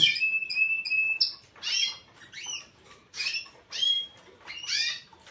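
Caged birds sing in bursts of bright, clear whistled notes and fast trills, several phrases separated by short pauses, loud and close with no talking.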